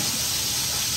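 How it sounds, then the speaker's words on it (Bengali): Tilapia fish frying in hot oil gives a steady, close broadband hiss that stays even and continuous for about a second, with no voices. "এদিকে আমি মাছটা ভেজে নিচ্ছি"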